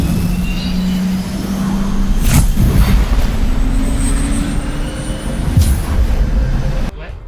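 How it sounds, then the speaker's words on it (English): An airplane passes overhead near North Las Vegas airport, its engine drone swelling and shifting in pitch over several seconds, with a voice talking over it. "we live near the North Las Vegas airport, and we are constantly battling the plane noise"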